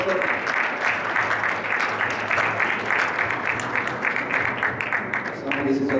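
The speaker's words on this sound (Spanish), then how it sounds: "Fuerte el aplauso para la doctora." Steady, dense clapping from an audience at a sports research recognition ceremony continues for several seconds, with a voice faintly heard near the end.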